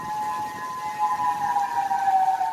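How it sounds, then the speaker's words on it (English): Tornado warning sirens wailing across the US South during an Easter Sunday severe weather outbreak, a steady sustained tone rising and holding, loud and unbroken with no voices. "Tonight, sirens blaring across the South, an Easter Sunday severe weather outbreak underway."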